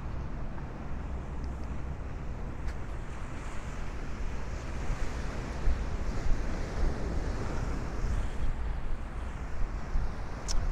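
Strong wind blows steadily along a foggy 4th Avenue street in Bay Ridge, Brooklyn, a constant loud roar and rumble with wind buffeting the microphone, swelling in gusts and never letting up.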